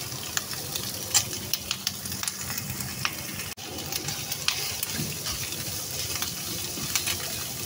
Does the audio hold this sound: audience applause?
no